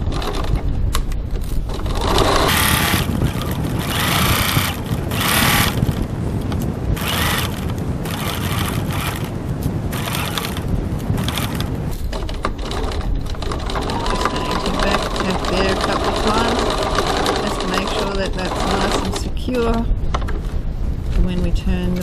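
A sewing machine runs a long, continuous stitch along a 1 cm seam of a crossbody bag, with a dense, steady mechanical whir and brief uneven pauses throughout.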